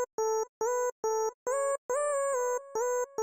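Tiny lead synth from the Purity plugin plays a plugg-style melody of short, bright, bouncy repeated notes in quick chopped bursts, played alone with no voices.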